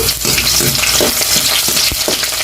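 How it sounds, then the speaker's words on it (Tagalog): Garlic sautéing in a hot pan with green chili and onion nearby, a loud steady sizzle with repeated scraping stirs of a utensil, close and continuous, no voices. "So, ilagay na natin itong bawang. Gigisa na tayo."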